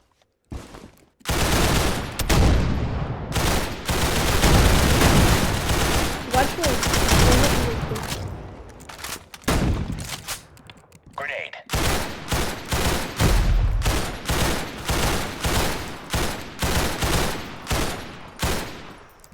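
Rapid bursts of video game gunfire, loud and dense, crackling in repeated volleys with a brief pause midway before the shooting resumes.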